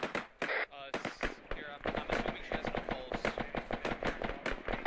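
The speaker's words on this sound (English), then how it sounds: "they're shooting through one of the building's walls as well" Rapid gunfire from a mounted light machine gun on a jeep and rifles in an Arma 3 military firefight around a compound, sharp bursts repeating steadily throughout under continuous radio-style talk.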